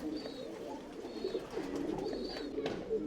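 A tumbler pigeon in a Bangalore loft coos in steady, repeated low rolling calls with a faint higher chirp now and then, close by, with no talking.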